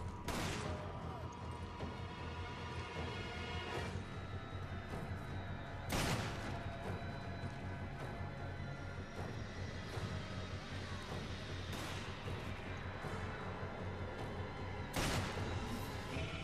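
Heavy Smith and Wesson gunshots in Resident Evil 5, four sharp loud blasts spaced a few seconds apart over a dense, busy game soundscape.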